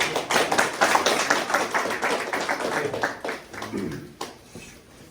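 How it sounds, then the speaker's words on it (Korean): A gathering at a bus workers' union education session breaks into brisk applause, thick and loud at first, then thinning out to scattered claps before fading. "박수로 모시겠습니다"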